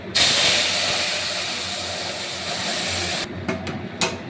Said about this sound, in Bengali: আর ডালটা ফোড়ন দেবো